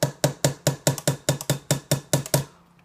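A small hammer strikes a plastic wheel on a Tamiya Mini 4WD chassis, about a dozen sharp, evenly spaced taps in a quick steady rhythm, close and crisp, ending in quiet.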